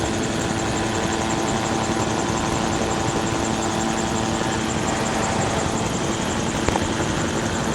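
A gyrocopter engine drones steadily during a climb in flight, a loud, continuous close buzzing roar with propeller and rotor vibration, unchanging throughout with no talk.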